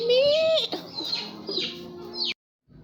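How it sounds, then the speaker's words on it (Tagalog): Young chickens and turkeys from an incubator on a farm, loud close clucking and drawn-out calls overlapping for about two seconds before stopping abruptly, with a faint sound after. "Ito yung mga manok at saka pabo mga wow na galing sa incubator"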